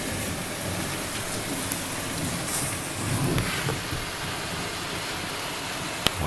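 A heavy, sudden downpour in Wales roars as a dense, steady hiss of rain, with a low rumble of thunder building midway and a sharp crack near the end.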